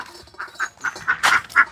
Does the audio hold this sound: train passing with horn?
no